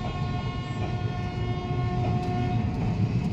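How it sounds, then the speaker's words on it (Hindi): Passenger train 05043 being shunted into platform 1 at Ramnagar station, a steady rumbling drone of the locomotive and coaches with sustained horn-like tones running throughout, close and continuous with no talk. "तो ट्रेन फिलहाल हम लोगों की लगाई जा रही है 1 नंबर प्लेटफॉर्म पर।"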